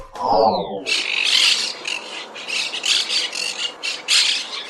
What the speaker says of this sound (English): Despite being known as monk parakeets, the green and gray squawkers are true parrots